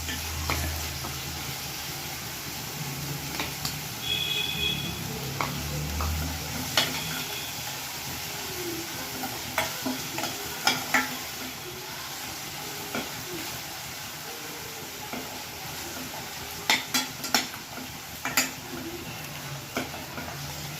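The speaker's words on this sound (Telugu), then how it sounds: "చిల్లీ పేస్టు, అది కొంచెం కలర్ వచ్చేంత వరకు మనం వేయించుకోవాలండి" Green chili paste frying in a pan for lemon rice, with a soft steady sizzle and scattered scraping clicks as a spoon stirs it, fairly close and without talk.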